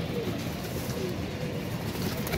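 Pigeons coo softly in a loft, low burbling calls repeating under a steady background hum over a couple of seconds.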